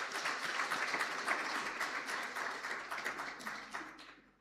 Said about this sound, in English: Ladies and gentlemen, can we give a round of applause for Ndate Modupi?